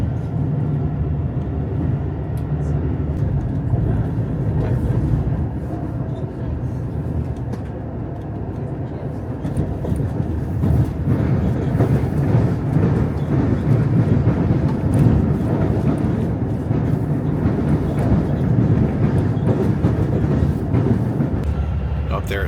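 Steady rumble and rush inside an Acela high-speed train running from New York toward Philadelphia near Jersey City, a continuous low roar with rattles and wheel noise throughout, no voices.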